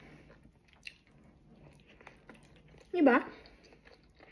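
Biting and chewing on a homemade pizza wrap made with leftover cooked chicken, a short wet crunchy bite close to the microphone, with brief speech just before.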